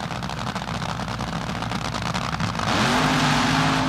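Funny Car drag racers at a 1976 NHRA Gatornationals meet, a harsh crackling roar of nitro engines building, then a loud sustained blast as the cars launch down the strip.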